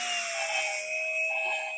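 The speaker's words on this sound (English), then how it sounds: "you're going to hear that grinding noise as well" A drill spins steadily to lap cylinder head valves with grinding paste, giving a continuous high whine with a faint gritty rasp, loud and close, with no speech.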